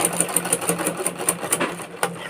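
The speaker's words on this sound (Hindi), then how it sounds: "यहाँ पे 2-3 सिलाई लगा लेंगे" Sewing machine stitching a baby frock, a rapid run of evenly spaced mechanical clicks and whirring stitches close up, pausing briefly before one last burst.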